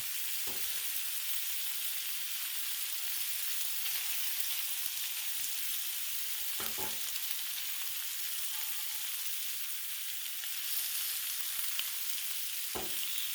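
Frozen pierogies and kielbasa fry on a Blackstone griddle, a steady close hiss of sizzling fat with a few sharp scrapes of a spatula, no talking.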